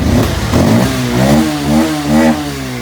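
A Bajaj Pulsar 150 BS6 motorcycle with a self-start fault running after an electric start, its engine note loud and close, rising and falling in revs with a steady mechanical clatter.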